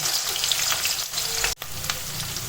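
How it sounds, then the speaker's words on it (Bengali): Sliced onions drop into hot oil meant for cooking chicken and crackle in a loud, dense sizzle that is close and continuous, with a brief dip partway through before the frying comes back at full strength. "এই যে পেঁয়াজটা দিয়ে দিলাম"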